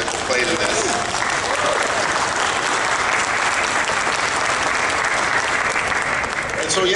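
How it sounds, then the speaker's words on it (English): Sustained, dense applause from the audience for the cast at a Coco Day of the Dead dedication in Los Angeles, steady and loud throughout with no break. "let's applaud for all the actors that played in this."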